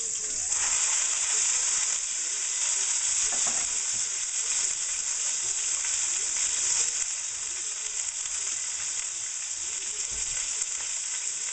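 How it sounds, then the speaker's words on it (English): Pork fat cap and onions caramelizing in a hot pan give off a loud, steady, hissing sizzle that runs unbroken for over ten seconds, with faint crackles and occasional stirring underneath; no voices. "I'm just letting that fat cover cook a little bit and the onions caramelize"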